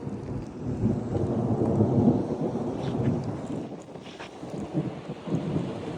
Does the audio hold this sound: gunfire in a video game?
no